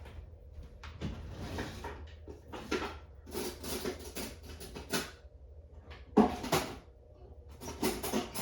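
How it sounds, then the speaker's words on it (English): Fork stirring dehydrated seasoning into liquid in a crockpot, a series of irregular scraping clinks and knocks against the pot, close and fairly quiet with no talk. "I'm going to get a fork and kind of stir this up"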